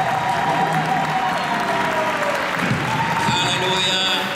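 A church congregation in Montréal applauds steadily and loudly to acclaim the Holy Spirit, a dense sustained clapping filling the room with voices and music faintly beneath.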